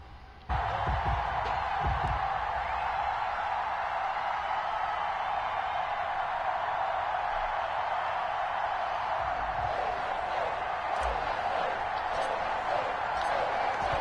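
A sold-out stadium crowd at a Madden NFL 21 game in Foxborough roars in a steady, dense wash of cheering that holds throughout, with a commentator's voice over it.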